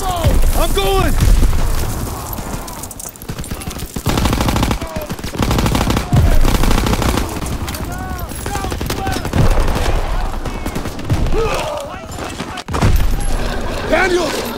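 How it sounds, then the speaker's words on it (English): Dense machine-gun and rifle fire with booming blasts rages through a World War II battle in Call of Duty WW2, loud and continuous, while soldiers shout orders over the shooting. "All right, covering fire!"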